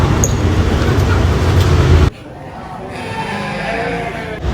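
Garut sheep at a livestock market in Tanjungsari, Sumedang: a loud, dense crowd din of animals and bustle, then a quieter stretch where bleats sound more distant under general market noise.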